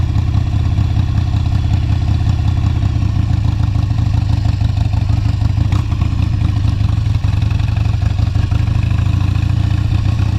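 A Harley motorcycle idles with the choke on, its engine a loud, steady low rumble that continues without a break from start to end.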